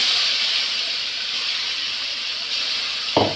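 Ground spice paste with dried red chillies tipped from a mixer jar into a hot pan, a steady loud sizzle and hiss throughout, with a brief thud as it lands near the end.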